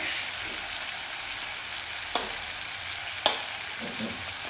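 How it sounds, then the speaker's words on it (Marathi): Spices including turmeric, red chili powder and garam masala sautéing in hot oil in a pan, a steady near sizzle with two sharp scrape clicks of a spoon. "आता हे मसाले व्यवस्थित परतून घेऊ"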